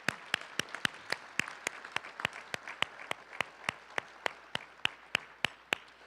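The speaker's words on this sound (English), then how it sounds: "And now we're going to give another round of applause." Applause at a CSU scholarship luncheon, heard as a steady run of sharp, evenly spaced claps, about three per second, fairly soft and close with little crowd wash behind them.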